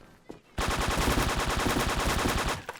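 A long, loud burst of rapid automatic gunfire in a video game, steady and relentless for over two seconds, following a brief quieter moment.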